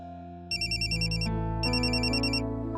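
A mobile phone rings for an incoming call, playing a bright electronic melody in two repeating phrases over a sustained tone, loud and close with no voices.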